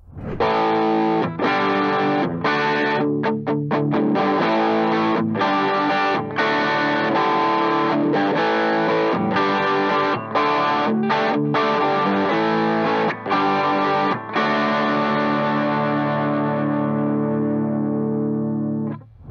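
Electric guitar played through a Harley Benton MiniStomp Green Tint overdrive pedal into a cranked amp: a loud, continuous stream of smooth overdriven notes and chords with a creamy lead tone, ending on a final chord that rings out and fades.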